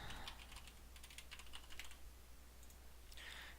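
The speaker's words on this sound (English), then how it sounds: "So I'm going to type enclosure." Typing on a computer keyboard: soft, quick clusters of key clicks in short bursts with small gaps, faint and close over a low background hum, with no talking.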